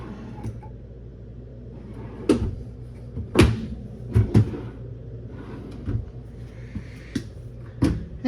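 Kitchen drawers in a 2021 Big Country RV slide open and shut several times, sharp wooden knocks and brief rolling slides scattered irregularly over a quiet room hum, with no talk.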